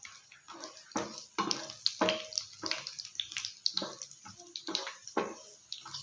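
Cashew nuts fry in a pan for a cashew masala curry, giving irregular crackling and sizzling bursts with small clatters, close and moderately loud, no voices.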